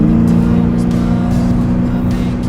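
A 1966 Chevy Impala with a new 350 small-block engine swapped in, floored at full throttle: a loud, steady, close engine roar with strong low harmonics held for the whole stretch, under road and wind noise.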